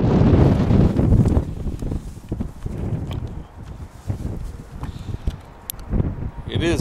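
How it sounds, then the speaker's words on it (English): Strong wind gusts outdoors during a snowstorm near mountains, a loud, rough rumble buffeting the microphone, heaviest at the start and easing into steadier, patchy gusts. "It is very windy."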